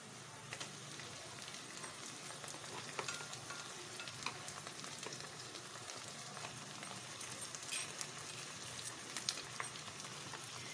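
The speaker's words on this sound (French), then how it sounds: "Alors je vais ajouter les champignons." Mushrooms and green beans hit a hot frying pan with onions, giving a continuous close sizzle and fine crackling with light stirring clicks throughout, no speech.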